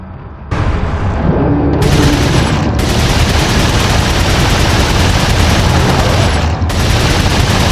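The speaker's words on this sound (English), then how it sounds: "I'm just going to go ahead and open fire in his face" Sustained burst of TMP submachine gun fire in Resident Evil 4, rapid loud shots continuing for several seconds with booming impacts and game effects, no talking.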